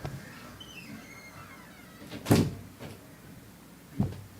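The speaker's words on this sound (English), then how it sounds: "So I'll have to close the door." A door is shut indoors, giving one distinct thud at mid-clip, a fainter knock soon after and another short bump near the end, against a quiet room hum.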